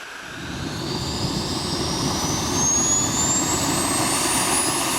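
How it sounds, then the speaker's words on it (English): A SubSonex JSX-2 sport jet's PBS TJ100 turbojet roars steadily with a rising whine, a continuous loud turbine rush as the aircraft flies past. "The SubSonex is being powered by the PBS TJ100 turbojet engine."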